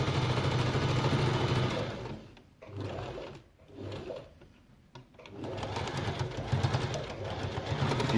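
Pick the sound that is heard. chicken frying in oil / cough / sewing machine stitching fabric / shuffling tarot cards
sewing machine stitching fabric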